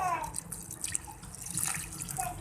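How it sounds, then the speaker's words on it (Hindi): Warm sugar syrup poured over fried bread gulab jamun, a steady liquid trickle and splash with faint dripping, close and moderately quiet, no talk. "तो अब मैं इसमें चाशनी डाल दूँगी"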